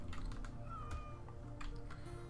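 A cat meows once, short and soft, in the Rimworld colony-building game over a steady hum of game sound and light keyboard clicks.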